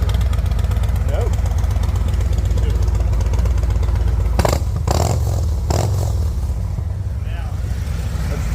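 Harley-Davidson Street Glide-type motorcycle with Rinehart exhaust idles close by with a deep, steady rumble, a few brief blips midway, while a person talks over it.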